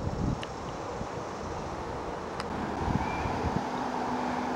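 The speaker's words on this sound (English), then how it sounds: "The wind is starting to get unflyable" Strong wind blows outdoors in conditions too gusty for flying, heard as a steady, rough rush of buffeting noise across the microphone with a few brief gusts, and no one speaking.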